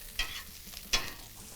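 A seasoned venison meatloaf mixture is stirred in a pan, giving two distinct scraping strokes against a faint background sizzle, with no voices.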